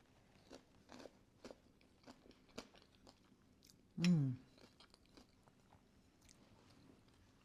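A single crunchy bite into cooled tater tot hot dish with turkey, vegetables and a creamy center, one brief close crunch followed by quiet chewing and soft mouth sounds.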